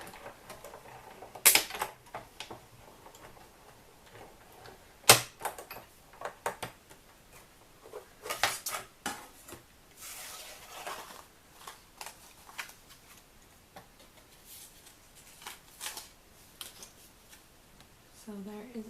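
A die cutting machine running a piece of kraft cardstock through to cut a tag, giving soft clicks, ticks and mechanical rattling over nearly twenty seconds, quiet and close, with a voice talking now and then.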